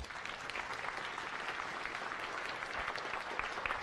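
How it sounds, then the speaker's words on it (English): Audience applause at a science cafe talk on gravitational waves, a dense steady patter of many hands clapping throughout, evenly sustained with no voices on top. "Let's give her one more round of applause"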